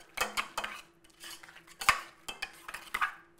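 A utensil stirring sour cream into soft mashed potatoes in a pot, giving a run of clinks and scrapes against the metal in an uneven rhythm, close by with no one speaking.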